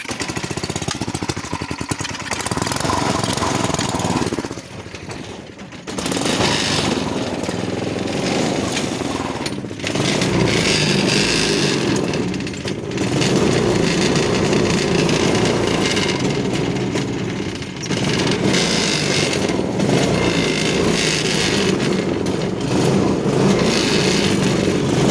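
A go-kart engine started with one pull runs loud and steady close by, a continuous rough buzzing drone with a few brief dips in revving.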